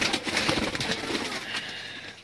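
A female pigeon coos in soft, repeated throaty calls, close and fairly clear, over a faint background hum.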